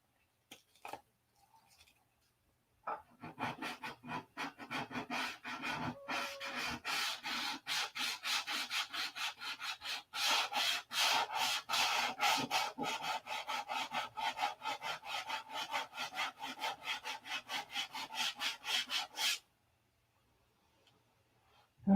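Someone is hand-sanding the fillets on a P-47 aircraft, producing a steady, rhythmic rasping rub of quick back-and-forth strokes. It runs close and continuous for about sixteen seconds, then stops into near silence.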